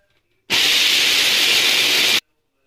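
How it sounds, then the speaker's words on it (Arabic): A food processor grinds peanuts in one loud, steady burst of whirring and rattling lasting almost two seconds, with quiet before and after and no talking. "هنزل في الكبه واطحنهم"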